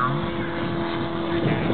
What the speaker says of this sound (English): Got a 250 radial engine, 20 horsepower. Purr as he comes by.